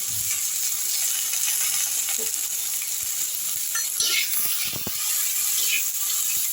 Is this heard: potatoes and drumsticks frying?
yes